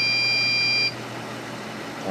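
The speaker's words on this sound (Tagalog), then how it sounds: "Bumalik na naman yung beep niya." A desktop PC sounds a BIOS beep during a no-display fault, one steady high electronic tone lasting just under a second before cutting off to a low fan hum.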